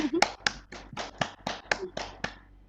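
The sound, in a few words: class applause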